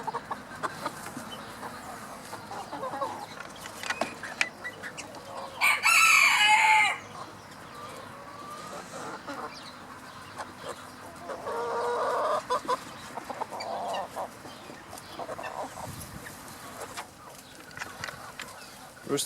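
A rooster in a backyard flock crows once in a loud burst, with scattered soft clucks and fowl murmurs from the farmyard around it.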